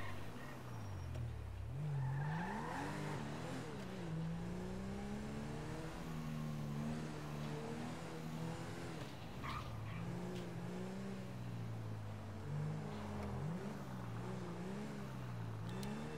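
A police patrol car drives on a city road, heard from inside: a steady, fairly faint engine hum rises and falls as it accelerates and eases off, with a short tire squeal.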